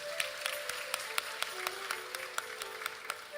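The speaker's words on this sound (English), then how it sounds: "Tonight, give them a round of applause." Scattered claps from an audience at a Pitra Paksha observance, sharp individual hand claps spaced fairly regularly over a steady background hum, thin and moderately faint rather than a full roaring applause.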